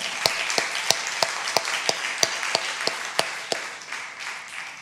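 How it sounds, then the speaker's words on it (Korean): A church congregation at a Sunday morning service claps in a steady, evenly spaced beat, sharp individual claps over a softer background wash, fading slightly toward the end. "수고하신 모든 분들을 위해 우리 다 같이 박수하시겠습니다."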